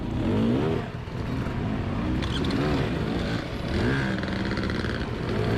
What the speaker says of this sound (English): There's got to be 100 bikes on this hill right now.